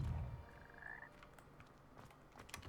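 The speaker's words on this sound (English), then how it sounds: "I'm gonna get eaten by frog." Frog croaking inside the video game Hogwarts Legacy, a short faint call standing out from quiet in-game ambience, with a low thump at the start and soft clicks near the end.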